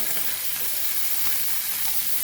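Sardines frying crisply in a pan of hot oil for Goan tarle fry give off a loud, continuous close-up sizzle with no talk over it.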